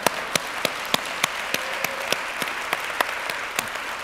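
Audience applause at a university conversation event, a steady wash of clapping with sharp individual claps standing out at a regular beat, moderately loud and without talk over it.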